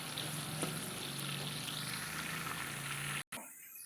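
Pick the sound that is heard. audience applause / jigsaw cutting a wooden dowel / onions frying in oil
onions frying in oil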